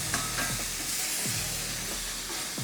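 Food is stirred together in a hot frying pan over a steady, close sizzle, with soft scraping strokes of the spoon repeating every second or so.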